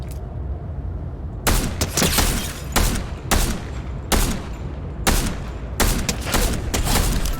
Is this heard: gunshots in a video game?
yes